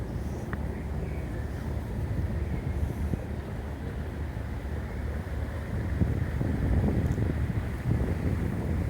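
A classic motorboat powered by twin six-cylinder Perkins diesel engines cruises on a river, giving a steady low rumble under continuous wind buffeting against the microphone, with a slight rise in intensity toward the end.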